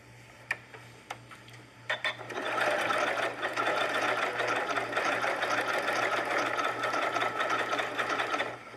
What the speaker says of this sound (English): let's just take this to the machine and do a little decorative stitch to get it in place